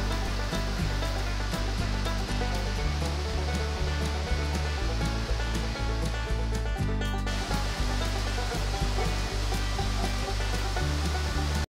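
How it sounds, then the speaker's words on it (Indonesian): A waterfall at the Rayap recreation site in North Aceh roars as a dense, steady wash of falling water, loud and unbroken throughout, with faint scattered clicks and knocks and no clear speech. "Beginilah suasana di tempat rekreasi air terjun Rayap"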